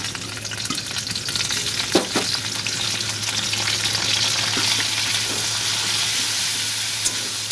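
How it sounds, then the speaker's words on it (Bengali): Potatoes frying in a pan with a paste of ginger, garlic, onion and cumin; a steady, close sizzle runs throughout, broken by a few soft clicks of stirring, with no talking. "আলু ভাজা ভাজা হয়ে গেছে মধ্যে দিয়ে দেবো আদা রসুন পেঁয়াজ আর জিরে বাটা"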